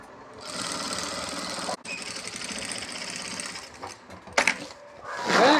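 A sewing machine stitches a bag woven from korai grass with a steady close mechanical whir broken by a brief stop, followed by a few clunks and rustling handling noises at the end.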